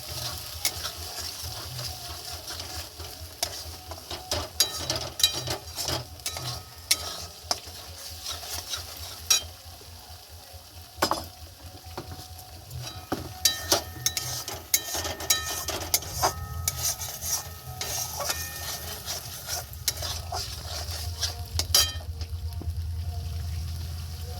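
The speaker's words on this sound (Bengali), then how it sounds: "তেল ছেড়ে দিলে তারপর আলুটা আস্তে আস্তে দিয়ে দেবো, ভাজা আলুটা।" Fried potatoes join spice masala sizzling in oil for Kashmiri dum aloo, with constant frying crackle broken by frequent sharp scrapes and clinks of a spoon stirring against the pan, close and busy throughout.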